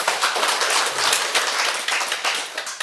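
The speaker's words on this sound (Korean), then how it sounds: "박수 좀 쳐줘" An audience at a lecture claps together, a dense, even applause that holds steady for about three seconds.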